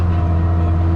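A Case IH Maxxum 5250 tractor engine runs at a steady loud idle with a deep rumbling hum, continuous and unbroken with no talk.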